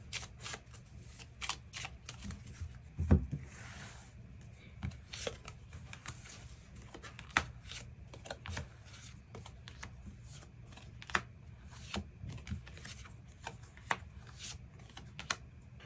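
Tarot cards are shuffled and drawn in a quiet room, with soft rubbing and a scatter of sharp little snaps and taps, faint and close, spread irregularly through the stretch.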